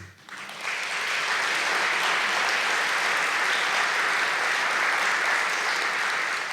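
An audience at a talk on belonging and targeted universalism claps, swelling quickly from a few hands into sustained, even applause that fills the room.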